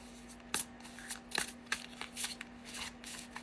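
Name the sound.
shuffling a new deck of cards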